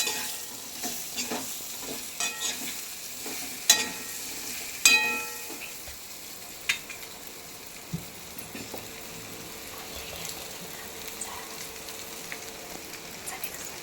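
A colocasia leaf mixture fries in a pan for a long stretch, with a continuous soft sizzle under repeated utensil scrapes and a few sharper clinks. It stays close and fairly quiet, with no voices.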